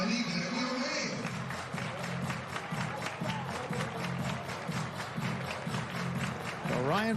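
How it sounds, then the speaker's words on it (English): Crowd at a Dodgers vs White Sox spring training baseball game clapping in a steady, rhythmic beat, many hands together forming a dense, even patter under general stadium noise. "Everybody clap your hands"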